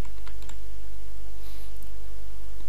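Keys clatter on a computer keyboard as betting odds are entered, a quick run of light clicks close by over a steady low hum, with no talking.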